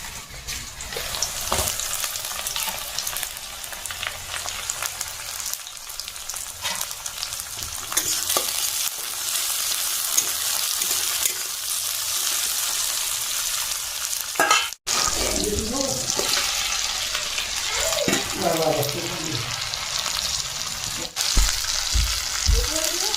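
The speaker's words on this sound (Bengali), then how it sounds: "ফার্স্টে আমি আলুগুলো ভেজে নিচ্ছি দুটা ভাজা হয়ে গেছে আর এদিকে দেখো পেঁয়াজ দিয়ে দিয়েছি আর এবার দেব লঙ্কা" Potatoes, onion and chilli frying in a pan, a loud continuous close sizzle with occasional stirring scrapes and a brief break midway.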